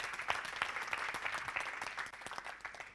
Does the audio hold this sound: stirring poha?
no